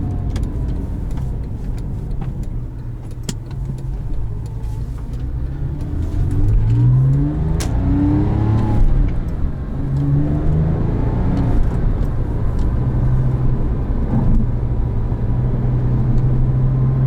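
A 2007 Porsche 911 (997) Carrera S with a manual gearbox, its engine blipping and rising in pitch during rev-matched downshifts, heard from inside the cabin as a loud, steady mechanical drone between revs.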